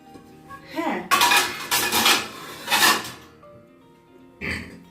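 Old china plates clatter and clink as they are stacked and put away, in several loud close bursts of ceramic knocks and rattles, then a final clunk after a short pause.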